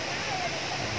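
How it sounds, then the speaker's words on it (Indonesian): Takapala waterfall in Bontolerung, Tinggi Moncong, South Sulawesi, a steady, dense roar of falling water filling the whole clip, loud and close with no pauses. "silakan teman-teman berkunjung ke air terjun Takapala"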